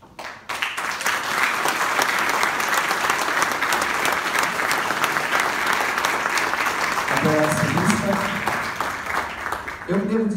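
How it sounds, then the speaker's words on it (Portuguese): An audience claps steadily and loudly at a choir concert, sustained applause filling the room for several seconds, and near the end a voice begins speaking over the fading clapping. "Eu quero que vocês aplaudam Milena Morena."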